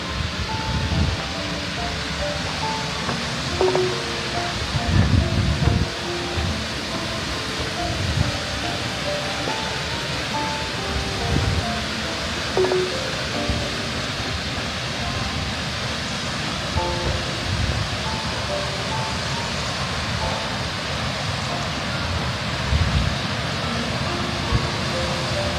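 Steady broadband rush of a waterfall beside an electric power station, loud and continuous throughout with a few low thumps and a faint tonal hum underneath.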